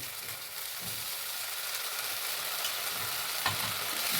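Paneer filling frying with chilli powder, garam masala and tomato sauce, a constant close sizzle with soft periodic scrapes of stirring throughout, no talk.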